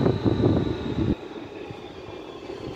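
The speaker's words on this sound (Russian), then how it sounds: "видим, как «Ласточка» прибывает на станцию МЦК «Локомотив»" Lastochka electric commuter train pulling into MCC Lokomotiv station in Moscow, a rumbling rolling drone that drops away abruptly partway through, then a quieter hum on the platform with no talking.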